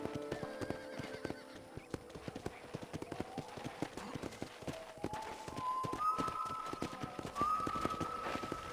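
Horses at a ranch corral in Red Dead Redemption, with rapid hoofbeats clip-clopping steadily and occasional whinnies over a rising ambient tone.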